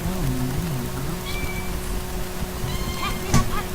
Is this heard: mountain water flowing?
no